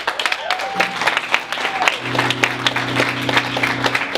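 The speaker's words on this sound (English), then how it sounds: "Give yourself a round of applause." Audience applause at a music event celebrating an EP release, scattered claps building into steady clapping under sustained music tones and some voices.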